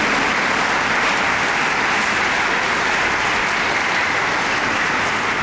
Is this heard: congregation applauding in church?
yes